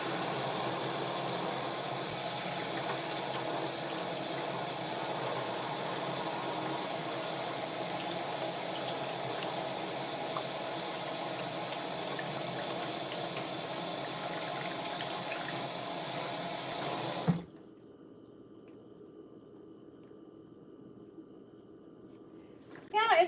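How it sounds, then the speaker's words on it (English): Water from a kitchen tap runs hard into a pot that has potato stuck inside it, a loud, steady rushing spray that stops abruptly near the end, leaving quiet room sound. "I'm gonna rinse it out."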